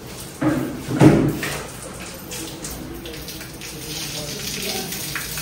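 Water blasts from a pump machine under heavy pressure in a village, with loud rushing surges early on that settle into a steady, hissing spray.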